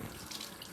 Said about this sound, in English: Here, we'll rinse that off.